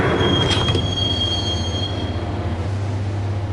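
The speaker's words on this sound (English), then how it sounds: "the train doors had already shut behind me, and I was in for the ride" A subway train in the Max Payne video game rolls along its rails with a steady low rumble and a sustained high wheel squeal that fades after a couple of seconds. The sound is loud and close, with no voices.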